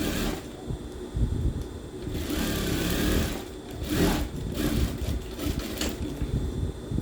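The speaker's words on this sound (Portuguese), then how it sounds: "eu vou costurar todo o meu cós" A sewing machine stitches along a skirt waistband, its motor buzzing steadily in close-up with brief pauses and restarts across the run.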